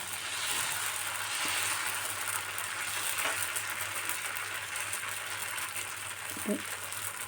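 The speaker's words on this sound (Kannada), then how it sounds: "ಈಗ ನೋಡಿ ನಾನು ದೋಸೆನ ಹಾಕ್ತಾಯಿದ್ದೀನಿ ಸ್ನೇಹಿತರೆ" Onion dosa batter sizzles on a hot pan as a steady, broadband hiss, with a few faint clicks and a low hum beneath it and no one talking.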